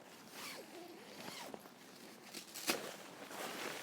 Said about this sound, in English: So this door has got a zipper all the way around